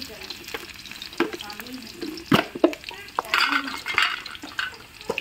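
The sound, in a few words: onions stirred and frying in mustard oil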